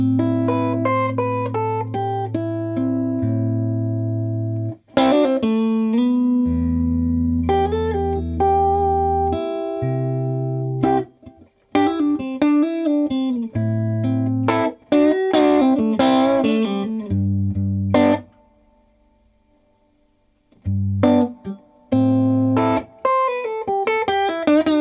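Clean electric guitar played through a Milkman Half Pint amp, with volume and pickup changes shaping the tone. Chords and single-note lines ring out steadily across the clip, pausing briefly near the end, and nobody talks.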